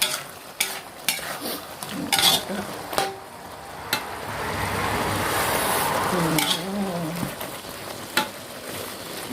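A southern Thai spicy pork curry with eggplant bubbles and sizzles in a pan while a utensil stirs and scrapes through it close by in steady strokes.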